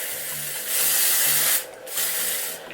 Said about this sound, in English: So I'm gonna use leg spray